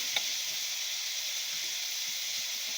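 Pork and vegetables, including morning glory and Chinese kale, stir-fried in a pan, giving a steady close sizzle and hiss with a brief scrape near the start and no talking.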